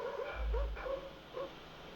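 Several dogs in a played video give short yips and whimpering barks, a few quick bursts over about two seconds, moderately close with a low rumble underneath.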